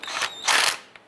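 Ratchet working a starter bolt loose on a 2002-2007 Jeep Liberty: short bursts of rapid mechanical clicking with brief gaps, close and moderately loud, no voices.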